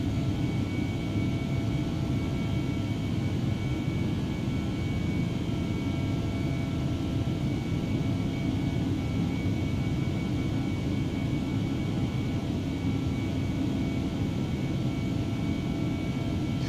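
Steady roar of Airbus A319ceo jet engines climbing toward cruise in the MSFS2020 flight simulator, easyJet livery; a dense, constant low rumble with a thin whine on top, holding at even loudness for the whole stretch, no voices.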